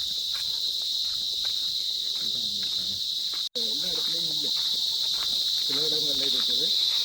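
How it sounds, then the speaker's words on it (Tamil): Cicadas call in a continuous high, piercing shrill drone that runs throughout, briefly cutting out once midway, while soft low murmurs and faint footstep-like sounds sit underneath. "சில்வண்டு கத்துது பாருங்க,"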